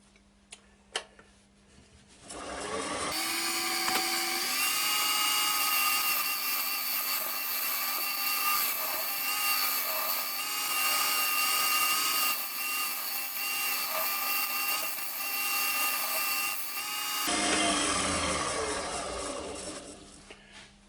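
A wood lathe turns a padauk and walnut bowl blank, with a steady whirring hum and a continuous rough scraping of the cutting tool on the wood for about fourteen seconds, starting and stopping abruptly, close and moderately loud.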